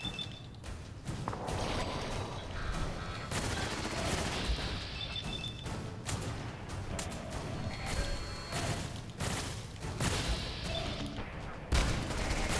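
Turret bot gunfire in Fallout 4 on survival difficulty, a dense, sustained fusillade of rapid machine-gun bursts with sharp impacts and crashes, loud and continuous across the whole stretch.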